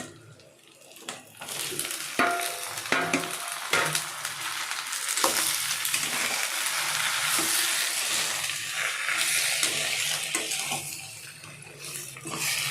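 Tomatoes tossed into a hot pan for paneer butter masala, sputtering and sizzling with scraping stirs, starting quiet and swelling into a steady close frying hiss before easing off.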